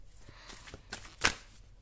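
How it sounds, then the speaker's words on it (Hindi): Tarot cards are shuffled up close, giving a few soft, faint riffling and slapping sounds that end with one sharper card snap. "कुछ और कार्ड शफल करते हैं।"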